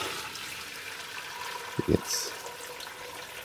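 Hot beef broth tipped from a pot through a pasta colander, a brief splashy gush of liquid lasting under a second against steady kitchen background noise, with a single spoken word just before.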